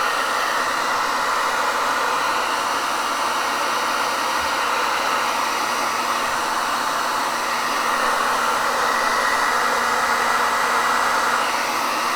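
A hair dryer blows steadily over wet paint on a painting, a loud, even, close-up broadband rush that holds constant without interruption.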